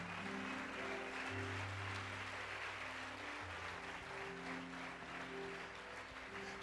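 Faint applause from a church congregation rises over sustained keyboard chords, the clapping continuous and fairly even for several seconds.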